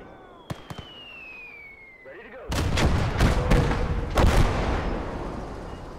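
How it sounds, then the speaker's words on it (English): Artillery and mortar fire in a World War II style video game: a few sharp distant reports and a falling whistle, then a loud rolling burst of heavy explosions and rumbling impacts close by. "is the 10 centimeter artillery actually hitting from here to the middle of the map?"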